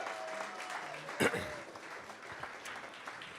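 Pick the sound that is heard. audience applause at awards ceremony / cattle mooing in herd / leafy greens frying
audience applause at awards ceremony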